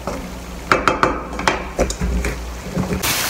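A knife or spoon cuts food in a cooking pan during an Indian dinner preparation of tomato and onion gravy, giving a few sharp metallic clinks and taps close by, then softer scraping.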